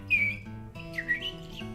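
A person whistles bird-like chirps and trills, a few short bright whistled phrases in a quiet room, imitating birdsong with the voice.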